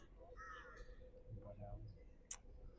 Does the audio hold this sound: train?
no